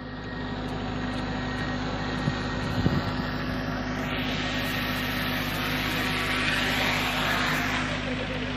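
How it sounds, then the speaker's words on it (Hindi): A camera drone flies low and comes in to land outdoors at a cricket match in Dubai, its steady high buzzing whine shifting in pitch midway, with voices in the background. "उसने ड्रोन कैमरा उड़ा रहा नीचे नीचे उड़ा रहा"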